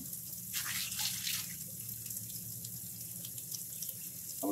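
Water runs steadily from a tap in an alpine hut, a continuous close hiss and splash that swells briefly before settling, with no talk.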